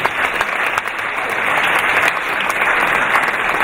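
A round of applause at a charity auction for rhino conservation, steady crowd clapping that builds slightly and holds loud and dense throughout.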